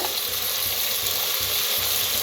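Carrot, potato and sprouted moong beans fry in a pan for rice, giving a steady broadband sizzle with soft stirring scrapes throughout, close and continuous with no talking.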